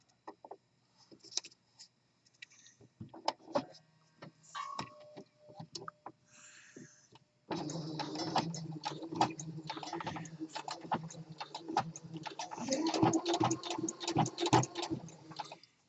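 Elastic is stitched into a fabric waistband on a sewing machine: scattered soft clicks and handling give way midway to a dense, steady run of rhythmic mechanical ticking.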